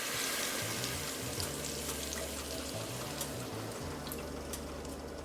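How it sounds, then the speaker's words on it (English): Cream poured into a hot pan while making lobster and crab mac and cheese gives a steady, fairly loud hiss of pouring liquid and sizzling that runs unbroken throughout, with no talking. "Now you're gonna take your cream. Go ahead, pour it."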